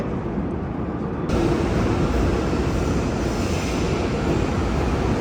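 A metro train at a station in Brazil gives a loud, steady rumbling roar close by, jumping up in level early on and then holding constant with no one talking.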